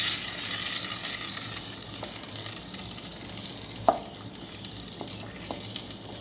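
Food sizzles and is stirred in a pan as garlic fries for a jackfruit erissery, a steady crackling sizzle with a few sharp utensil clicks against the pan.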